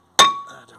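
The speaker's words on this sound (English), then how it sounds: "The disc is not moving, so it's going to need to be hammered off." A single sharp metallic clang as a hammer strikes a seized front brake disc on a VW Crafter or Mercedes Sprinter van hub, close and loud, ringing briefly before fading, with no one speaking.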